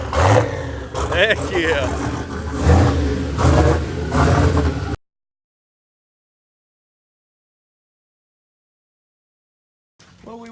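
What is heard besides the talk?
turbocharged 1971 Impala engine revving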